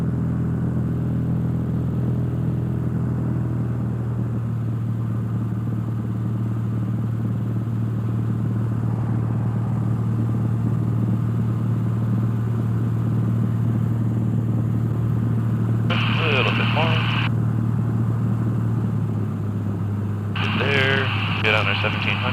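Cessna 172 engine droning steadily in flight, a loud continuous low hum with propeller rumble throughout, while brief bursts of radio or cockpit talk break in near the end.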